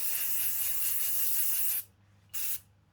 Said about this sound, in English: Now, before you spray, just move your spray.